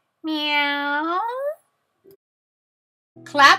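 A cat gives one long, drawn-out meow that rises in pitch toward its end, followed by silence and a short, bright vocal burst, set among children's counting songs.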